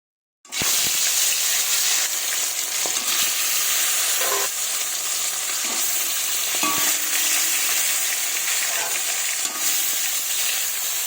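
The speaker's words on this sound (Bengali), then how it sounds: "তেল গরম হয়ে গেছে, এবার মাছগুলো ছেড়ে দেব।" Rohu fish frying in hot oil in a wok gives a loud, steady, close sizzle that crackles and hisses continuously, with a few faint clinks of utensils and no talking.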